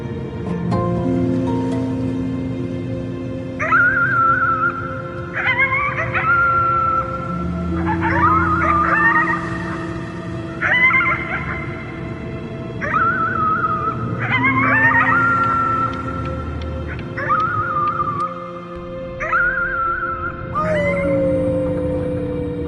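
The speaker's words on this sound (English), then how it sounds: "You howled at the moon at the top of your lungs." Howling from a video game: several long, rising and falling dog-like howls at moderate loudness, repeated in waves over a sustained droning music bed, with no talking.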